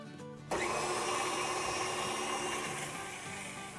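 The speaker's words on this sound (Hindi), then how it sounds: "तो मैं मशीन में गूंदूँगी।" A stand mixer fitted with a dough hook switches on abruptly and churns dough for a Turkish pita doner, giving a steady loud motor whir with a slight rhythmic knocking and no talking.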